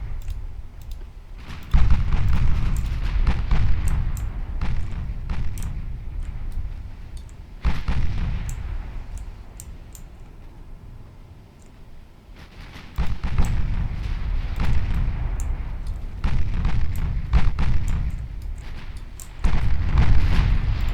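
Heavy naval gunfire from warships in Ultimate Admiral Dreadnoughts, with repeated deep booming salvos and rumbling bursts that rise and fall over a sustained low roar, several loud blasts punctuating the battle.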